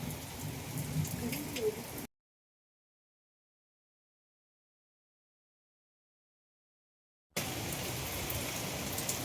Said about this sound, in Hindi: आंधी तूफान जारी है।